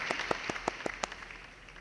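Brief, sparse clapping after a third-place award at an engineering design competition: a handful of separate, fairly faint claps in under two seconds that fade into quiet room noise.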